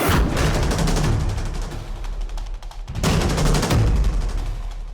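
A loud, heavy burst of gunfire with a crackling roar that fades, then a second powerful blast follows about three seconds later.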